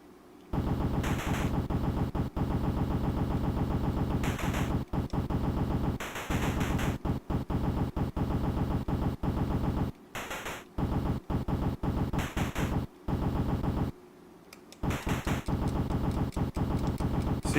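Rapid gunfire from a shooting video game on the PlayStation Classic, loud bursts of automatic fire broken by short silent gaps, repeating in a choppy, stuttering rhythm.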